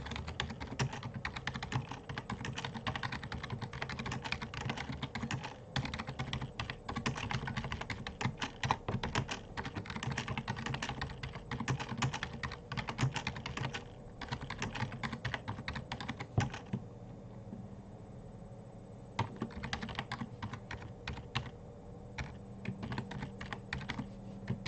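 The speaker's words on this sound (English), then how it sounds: "Let me just type something in the chat so that people who join in later know what to do." Someone types on a computer keyboard, a steady run of close, quiet key clicks at an uneven rhythm that pauses briefly before resuming.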